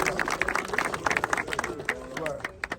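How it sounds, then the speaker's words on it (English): A crowd claps as wrestler Swerve Strickland is introduced, giving quick, uneven hand claps at moderate distance with people talking and chattering over them throughout. "Clap it up, guys."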